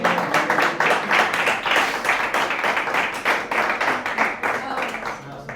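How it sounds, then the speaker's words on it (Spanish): A church congregation claps in praise during a Spanish-language Sunday service, loud rhythmic clapping in a fairly regular beat with many hands together, and voices mixed in beneath. "¿Cuántos le dan un aplauso de alabanza al Señor?"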